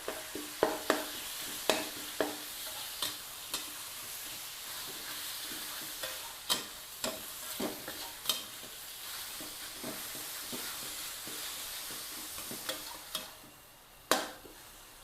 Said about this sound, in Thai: หลังจากนั้นค่ะผัด ใช้ไฟกลางค่อนทางแรงได้เลย